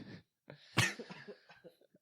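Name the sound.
cough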